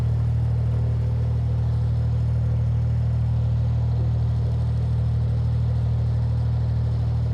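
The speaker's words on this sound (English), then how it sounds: "The engine's running smoother since I tightened my engine mounts, I think." A narrowboat engine running steadily on a canal, giving a loud, continuous low droning rumble with an even, unchanging tone throughout and no talking.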